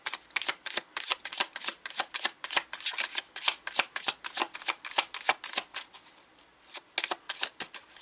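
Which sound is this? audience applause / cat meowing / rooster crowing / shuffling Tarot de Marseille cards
shuffling Tarot de Marseille cards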